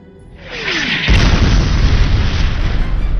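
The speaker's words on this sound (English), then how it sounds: "An explosion against the barrier ripped through the floor, shaking all of them where they stood" A loud, deep explosion erupts after a short rising whoosh, followed by a sustained rumbling roar that fills the rest of the clip.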